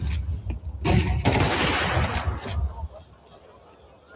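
Rapid automatic gunfire spamming in Counter-Strike 2 during an overtime round of a grand final at EWC, loud dense bursts through the middle of the clip with a caster talking over it, then thinning to quieter game noise.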